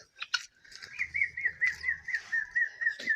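Close, rapid metallic chattering calls of guinea fowl repeat in a steady rhythm, with faint scuffling in the background.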